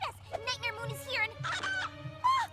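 A cartoon pony character in My Little Pony: Friendship Is Magic makes a string of clucking, warbling chicken noises with her voice, imitating a hen in short bursts.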